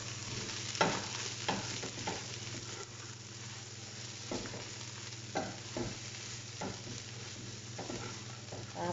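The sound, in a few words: stirring pasta with hotdog, pepper and salt in a pan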